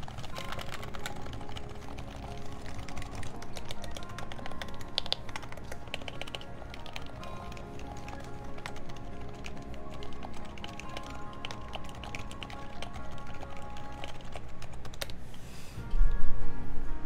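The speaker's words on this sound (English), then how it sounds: "Can you sound test that keyboard?" Typing on a Keycult 1/60 Rev. 1 mechanical keyboard goes on steadily, with a dense patter of close key clicks and a heavier thump near the end.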